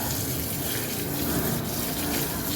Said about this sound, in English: rinse water at the leaves of oregano and lavender.